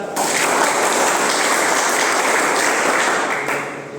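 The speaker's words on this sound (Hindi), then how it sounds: "अपने लिए ताली बजा दो एक बार" A classroom of students claps steadily for themselves, a dense and continuous burst of applause that holds evenly for several seconds before tapering off.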